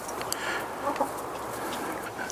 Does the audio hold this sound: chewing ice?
no